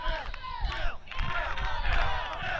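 At an ultimate frisbee final, a crowd cheers and whoops wildly in a continuous loud roar, with a commentator talking over it.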